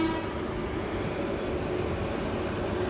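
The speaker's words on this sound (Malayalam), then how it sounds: "ഇത് മണ്ണാർക്കുടിയിൽ നിന്ന് ഭഗത് കി കോട്ടി അഥവാ ജോധ്പൂരിലേക്ക് പോകുന്ന ഒരു ലോങ് ഡിസ്റ്റൻസ് വണ്ടിയാണ്." Long-distance Southern Railway express passenger train from Mannargudi to Jodhpur passing close by, a steady loud rumble of wheels and carriages with a faint horn-like tone throughout, no voices.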